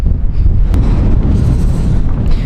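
Strong wind blasts across a microphone at an exposed Irish campsite in August, a constant loud roaring rumble with gusty buffeting and no pause throughout.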